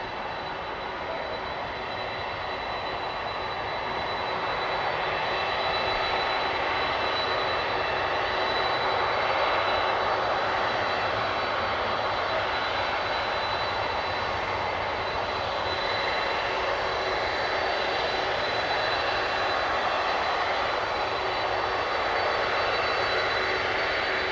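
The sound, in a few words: airplane engines at Manchester Airport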